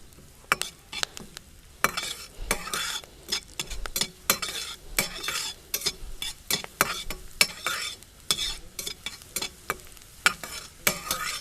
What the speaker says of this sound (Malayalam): ഇത് ഒരു 2 ടീസ്പൂൺ ഗാർലിക് ഒന്ന് സോട്ടാവട്ടെ.